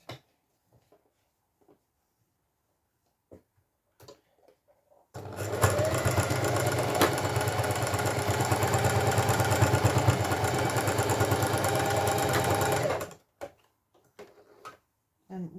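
A sewing machine stitching a boxy zipped pouch runs in one steady eight-second burst of fast, even motor whirring and needle clatter, with quiet handling noises before and after.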